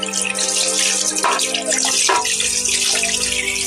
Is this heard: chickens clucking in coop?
no